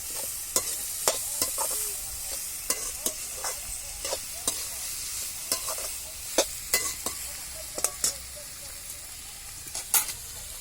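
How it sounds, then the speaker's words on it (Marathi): Cauliflower frying in a pan with garlic, ginger and tomato, a soft steady sizzle punctuated by frequent sharp clicks and scrapes of a spoon against the pan, close and irregular, no one talking. "छान हलवून घेतो. काय ते चांगलं हलवून जायचं."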